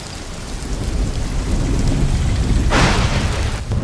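Heavy monsoon downpour in Junagadh, Gujarat, roars as a dense, steady wash of rain, with a sudden loud crack of thunder bursting through near the end.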